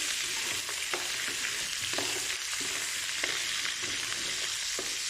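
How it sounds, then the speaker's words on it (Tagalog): Beef browning in hot oil in a pan for estofado, a steady close sizzle and crackle with occasional stirring scrapes and no talking throughout. "Ngayon naman ay iprito natin, pag-brownin natin itong beef."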